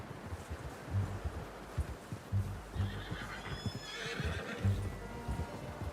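In Red Dead Redemption 2, a horse whinnies and snorts while its hooves clip-clop in an uneven rhythm, close by, with faint rustling and wind behind it.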